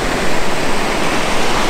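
Flowing water rushing outdoors at night during a motorhome trip, a loud steady broadband roar that stays constant and close, with no voices.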